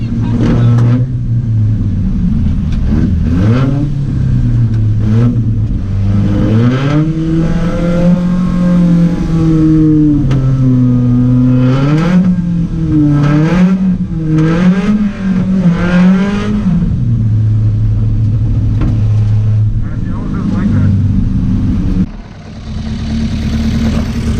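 A race car drifts through snow at about 100 km/h, its engine loud and close the whole time, revs rising and falling in long sweeping pitch bends before settling back to a steady drone and cutting out at the end.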